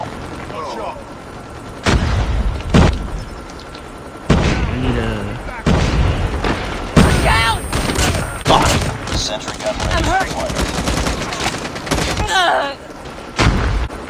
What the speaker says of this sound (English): here's a sentry gun. If you don't know what this is, it's just you place it down, it shoots a gun for you